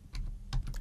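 Quick soft taps on a computer keyboard as a PIN code is typed, a short run of muffled keystrokes close by, heard alone.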